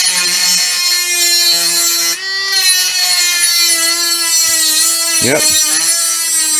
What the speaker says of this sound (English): I'm just going to try to make some cuts in here with the rotary tool, see how well that works.